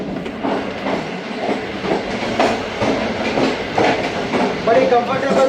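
Pak Business Express passenger train running on rails between Multan and Rohri, a steady rumble with repeated rhythmic clatter of wheels over rail joints, loud and close as if from inside or beside the coach.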